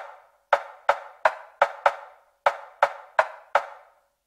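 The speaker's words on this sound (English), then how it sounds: "Then I added the hick. It also sounds like a conga." Conga-like drum sample in an Afro house beat, struck nine times in an uneven syncopated rhythm, each hit a short, sharp, clear tap that decays quickly.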